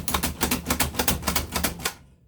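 A manual food chopper chopping onions clacks in a fast, steady run of crisp strikes, about a dozen in two seconds, then stops.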